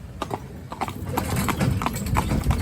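A horse's hooves clip-clop steadily nearby in a rapid, uneven rhythm over a low background rumble.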